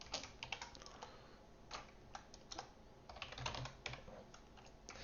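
Steady computer keyboard typing, close and fairly quiet, with irregular bursts of keystrokes and brief pauses while code is entered; no voices.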